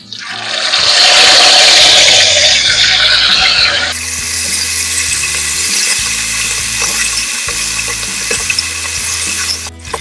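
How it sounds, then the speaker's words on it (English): Chicken pieces for Kenyan-style chicken choma sizzle and crackle as they deep fry in hot oil, a loud, steady bubbling hiss that surges at first and settles into continuous frying, with no talking. "So let's deep fry them."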